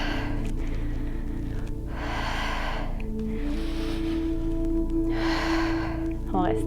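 Heavy, forceful breaths during a dynamic Malasana squat sequence in a tonic yoga class: three long rushing exhalations spaced a couple of seconds apart, close and loud, over a sustained low background hum.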